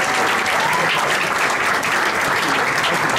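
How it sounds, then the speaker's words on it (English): A large audience at a tribute event applauds steadily, with dense continuous clapping that fills the whole moment and has no break. "don't you applaud for that?"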